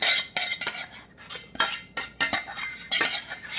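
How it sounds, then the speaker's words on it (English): A spoon stirring strawberry freezer jam with sugar and hot pectin mixture in a bowl, producing rapid repeated scraping clinks against the sides in an irregular but continuous rhythm, close and fairly loud. "we want to stir this until all that sugar is dissolved for at least 3 minutes"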